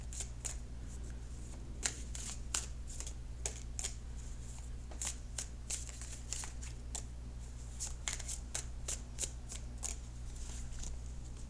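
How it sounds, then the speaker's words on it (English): Tarot cards are shuffled by hand, making quick, crisp riffles and flicks in an irregular rhythm over a low, steady hum of room noise. "And then I will cut the cards."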